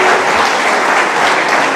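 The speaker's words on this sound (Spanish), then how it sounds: "un aplauso para Javier." Brief burst of audience applause for a speaker at a corporate mortgage-credit event, a loud, dense wash of clapping from a crowd close by.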